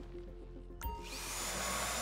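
A drill whirs in the video game GTA 5, starting with a sharp click and then rising into a loud, steady mechanical whine that grows and holds.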